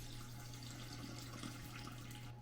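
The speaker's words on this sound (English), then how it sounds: "I'm gonna add the water. Water, 590 grams." Water pours in a steady, continuous trickle into a bowl of butter, salt and sourdough starter for bread dough, quiet and unbroken throughout.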